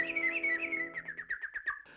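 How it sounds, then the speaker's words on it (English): Cartoon birds sing in a Disney animated short, a bright warbling whistle that trills and wavers for about two seconds, closer and louder at first, then broken into quick chirping notes over a faint musical backing. "Why, the birds are singing."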